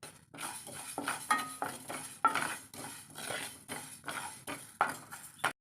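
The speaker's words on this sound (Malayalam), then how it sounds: "കടുകൊക്കെ ഒന്ന് പൊട്ടി വരുന്നുണ്ട്" Mustard and fenugreek seeds roast in a pan for mango pickle. Repeated scraping and stirring strokes come in a steady rhythm, with faint crackles and light metallic clinks, quiet and close.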